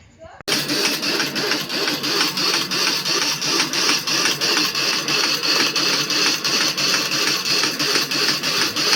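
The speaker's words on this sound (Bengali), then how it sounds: "এটা হচ্ছে আমাদের ধূপকাঠি তৈরির মেশিন" An incense stick (agarbatti) making machine runs in a small factory, producing loud, continuous mechanical clatter with a regular repeating beat that starts abruptly and carries on throughout.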